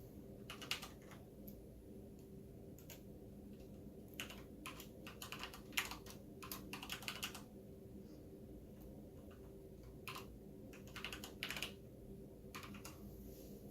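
Keys tapped on a computer keyboard while entering HDMI configuration lines for a no-audio fix, coming in quiet, irregular bursts of clicks with short pauses between them.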